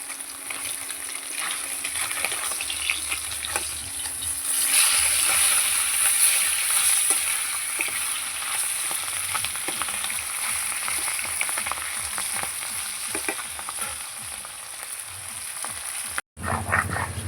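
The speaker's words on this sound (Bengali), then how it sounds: "মাছটা এবার উল্টে দেবো।" Flipped pieces of katla fish keep frying in hot oil in a kadai, making a steady, moderately loud sizzle with small pops and crackles that runs throughout before a brief sharp break near the end.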